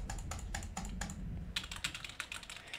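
Close-miked computer keyboard typing with mouse clicks during a Minecraft session, a steady run of quick clattering keystrokes in short bursts, loud and near, with no talking.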